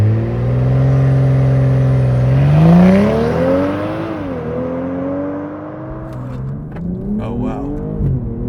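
A BMW M240i launches hard using launch control, the engine note climbing steeply through the revs, dipping at a gear change and pulling again, heard from inside with brief talk near the end.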